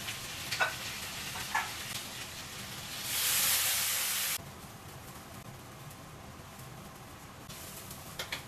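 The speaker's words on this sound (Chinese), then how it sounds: "再裹上面包糠，去炸酥就可以了" Sliced toast sandwiched with yogurt, dipped in egg and coated in breadcrumbs, frying in hot oil: a steady faint hiss throughout, swelling to a louder burst of sizzling for a second or so midway before settling back.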